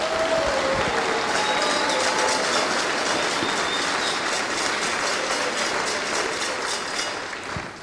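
A church congregation applauds and cheers in praise, sustained dense clapping and shouts filling the room steadily for several seconds before easing slightly at the end.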